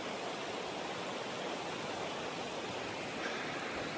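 A brook flows steadily on a trail, a broad, even rushing and burbling of water that stays constant and fairly close throughout, with no voices.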